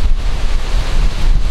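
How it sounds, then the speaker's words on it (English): Loud, roaring gusts of wind buffeting the microphone, suddenly arriving before a thunderstorm after a hot, still day, a constant rumbling rush with no voices. "All of a sudden it's got really windy."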